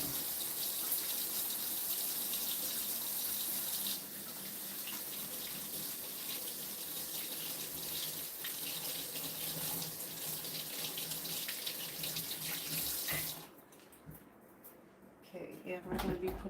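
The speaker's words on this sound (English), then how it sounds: "Let me start by washing my hands first." Water runs from a kitchen faucet in a steady splashing stream as hands are washed, then cuts off near the end, leaving a few faint handling sounds.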